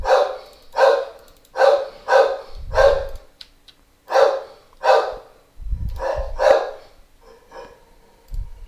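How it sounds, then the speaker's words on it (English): A dog barks repeatedly at close range in a series of loud, evenly spaced woofs, with a few short pauses and a final bark trailing off at the end. "And my dog's saying hello."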